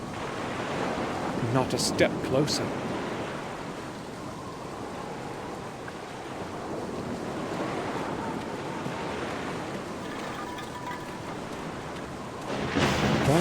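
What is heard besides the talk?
ocean waves below a cliff, from Black Mirror video game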